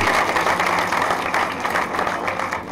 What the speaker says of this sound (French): Mais des applaudissements pour Ndikou.